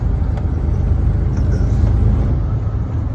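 A tractor trailer truck rolls along an early-morning route with a loud, steady low engine rumble and road noise, bouncing over rough pavement, close and continuous.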